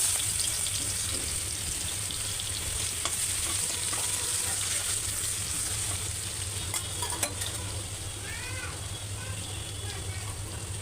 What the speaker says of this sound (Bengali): রসুনের সাথে জিরা ফোরন দিয়ে দিলাম